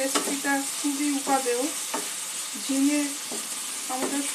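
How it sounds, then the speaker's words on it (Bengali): Sponge gourd curry with spices is stirred in a hot pan for jhinga shukto, a continuous close sizzle overlaid with rhythmic scraping strokes of the spoon. "সব কিছু একটু ভালো করে নাড়াচাড়া করে নেব"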